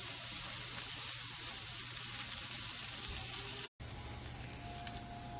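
Sweet onions and vegetables charring in a hot pan, a loud, dense, continuous sizzle and crackle heard up close, broken by one brief cut before the frying carries on, no talking.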